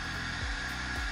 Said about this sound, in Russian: беру фен и грею